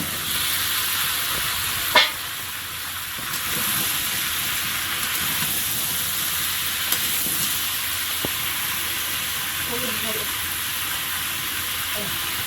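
Pumpkin and potato frying in a pan with onion, ginger and garlic paste, giving a steady close sizzle throughout with a sharp clatter near the start.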